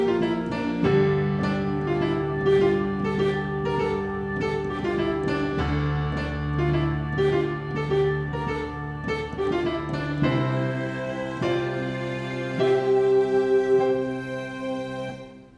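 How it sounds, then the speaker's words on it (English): A bright string-like keyboard patch plays a lively melody over a steady accompaniment, notes moving in quick rhythmic phrases with no voices. "we allow the strings to shine out by playing this really cool melody"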